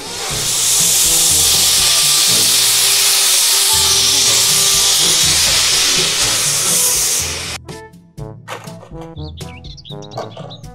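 A Thomas the Tank Engine steam train gives a loud, sustained steam hiss over low rhythmic chuffing for about seven seconds, then cuts off into quieter bright chirping, whistle-like tones.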